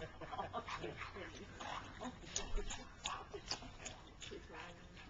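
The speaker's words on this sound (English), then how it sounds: "Crazy little winter dog." A small dog playing in winter snow gives short, excited yips, barks and whimpers in scattered bursts, close by, mixed with people talking outdoors.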